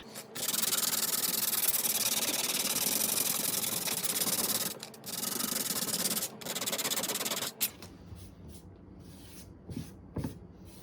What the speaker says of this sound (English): Some higher grit sandpaper.